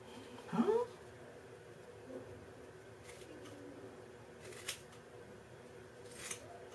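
Scissors snip through a fringe of hair a few times, quiet, crisp cuts close by, spaced out with soft rustling between them.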